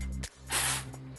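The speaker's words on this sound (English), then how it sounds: "So I tried to find a spray mister bottle." A small mister bottle sprays oil in short, close bursts of airy hiss, a brief spritz followed by a longer, stronger one, with a low steady hum underneath.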